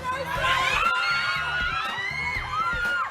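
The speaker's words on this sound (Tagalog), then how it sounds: "yung hiyawan ng mga fans" Volleyball fans in an arena cheer, whoop and scream together, a loud sustained roar of many high voices rising and falling throughout.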